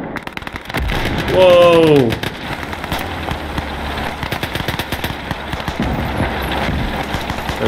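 Rapid gunfire crackles and a field gun booms in a World War II battle in the Call to Arms video game, with a whistling shell and dense continuous shooting while a player exclaims.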